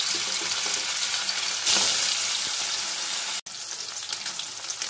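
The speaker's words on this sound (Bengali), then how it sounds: "এবার আমি ছোট টুকরো করে কাটা মাছগুলো এর মধ্যে দিয়ে ভেজে তুলে নেব।" Small pieces of rohu fish fry in hot oil in a wok, giving a steady, fairly quiet sizzle with a brief louder burst partway through.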